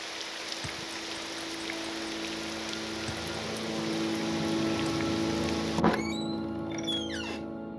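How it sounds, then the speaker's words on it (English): Steady rain from the video game Tamriel Rebuilt, an even wash of falling water holding at a moderate level, with a brief sharp knock near the end followed by faint chirping tones. "I like the sound of rain."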